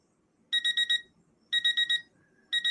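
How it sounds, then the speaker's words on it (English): A 30-minute timer alarm goes off in three bursts of four rapid, shrill electronic beeps, with short pauses between groups and a faint low background hum. "there's my 30-minute timer"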